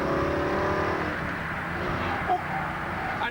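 A TVR Griffith's engine is revved under throttle, a brief rising growl heard at moderate distance with some background noise.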